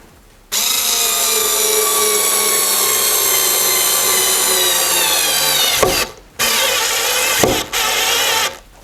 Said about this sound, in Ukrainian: гвинтик 4 на 25 і в соснову дозочку спробуємо його закрутити